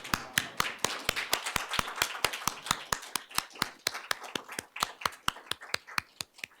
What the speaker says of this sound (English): So now I suggest we stand up and give a big round of applause to Pat.